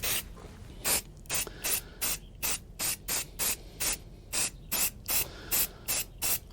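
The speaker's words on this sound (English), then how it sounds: "let's get this thing sprayed" Primer spraying from an aerosol can onto a freehand-carved pine elf, about fifteen short, evenly spaced hissing bursts, close and otherwise quiet.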